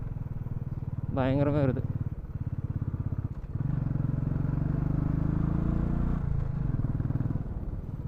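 A motorcycle climbs a small hill road with a steady, throbbing engine drone that rises and falls slightly, heard close from the rider's position while someone speaks briefly over it.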